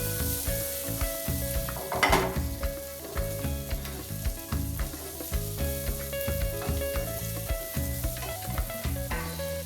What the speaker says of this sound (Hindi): अब हम इसमें ये छोटे छोटे आलू डाल देंगे जिसे हमने पहले से बॉईल करके रखा हुआ है। अच्छे से इसे मिक्स कर लें।